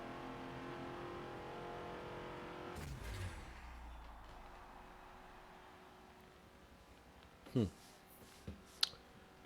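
Race car engine from the Forza driving game, a faint steady drone that drops away, followed by a few sharp clicks and short bursts near the end, with talk in the background.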